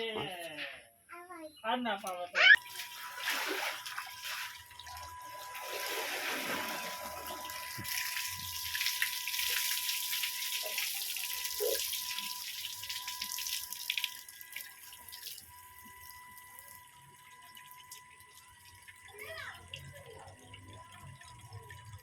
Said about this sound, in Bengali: কাপড়গুলি ধুয়ে সব মেখে দেবো, মেখে দিয়ে ধুয়ে দেবো